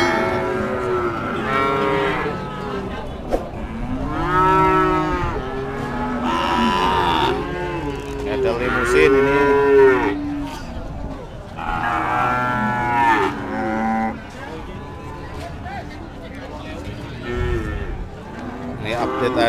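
Many cattle moo loudly and repeatedly at a livestock market selling female breeding calves in Pati, Central Java, the overlapping calls near and far over a busy crowd murmur.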